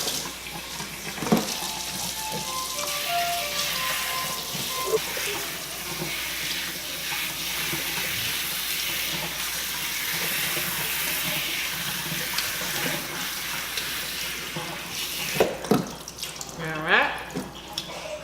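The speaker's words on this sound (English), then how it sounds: "I just rinse it out with lukewarm water" Running lukewarm tap water pours and splashes steadily for a long stretch while rinsing a boy's natural hair, with occasional clatter and faint voices beneath the rushing flow.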